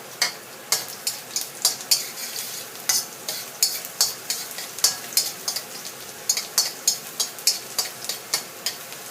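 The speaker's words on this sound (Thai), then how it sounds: "กระเทียมลงไปผัดให้หอม" Garlic stir-fried in hot oil in a pan, a continuous sizzle broken by sharp, regular spatula scrapes and taps roughly twice a second, close and crisp, with no voices.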